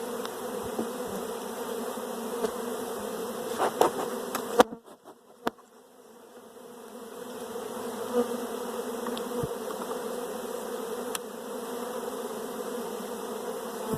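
Honeybees buzzing steadily around open hives during a brood nest inspection, a dense continuous hum close by with a brief clunk of hive equipment and a short dip partway through, no speech.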